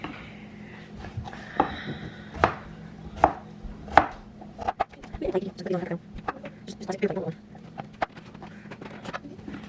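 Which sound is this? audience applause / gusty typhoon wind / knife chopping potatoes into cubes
knife chopping potatoes into cubes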